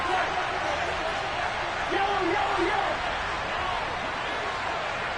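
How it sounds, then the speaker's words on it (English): A football stadium crowd roars steadily before a big third down in a Vikings versus Bears game, a loud, broad sustained wash of many voices with some whoops rising out of it. "The crowd getting into it as we come up on a big 3rd down."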